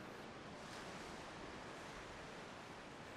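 Ocean surf at Carmel River State Beach rolls in as a constant, soft broadband wash of waves, faint and far off, with some wind and no voices.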